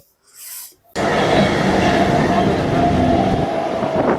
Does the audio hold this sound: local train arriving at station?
yes